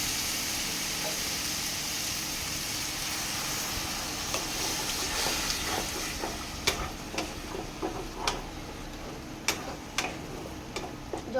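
Peas and goat fat sizzle in a pan with a splash of water, a steady close hiss broken in the second half by scattered sharp ticks and light scraping knocks, no talk.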